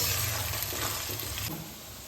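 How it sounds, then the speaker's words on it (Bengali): Two chopped onions fry lightly in a pan for a whole-garlic chicken curry, giving a steady close sizzle with occasional stirring scrapes that eases slightly near the end. "পেঁয়াজটাকে আমি হালকা করে ভেজে নেব।"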